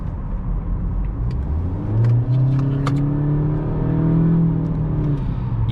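A 2018 Honda Accord Sport pulls under load from inside the cabin, its engine tone rising steadily through an acceleration, then easing and climbing again, loud and close over road noise.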